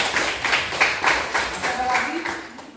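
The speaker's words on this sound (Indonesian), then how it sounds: "Tepuk tangan buat Farel." Classroom of students clapping for a classmate named Farel, a short burst of several hands beating in loose rhythm before fading, with a voice speaking briefly as it ends.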